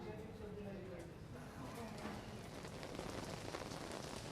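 Heavy monsoon rain pouring down in Jaipur, a dense, steady hiss of drops hitting the ground and other surfaces, continuous and fairly loud throughout, with a voice speaking faintly underneath.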